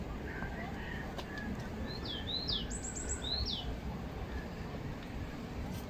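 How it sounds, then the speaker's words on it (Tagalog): Several bird calls ring out at Mirador Eco Park in Baguio City, a few short rising chirps and whistles in the middle of the clip, moderately distant over a soft outdoor hum. "ang sarap sa tenga ng huni ng mga ibon"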